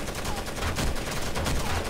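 A big gun in Rainbow Six Vegas fires continuously, producing a dense, loud stream of rapid shots with a steady rattling rhythm.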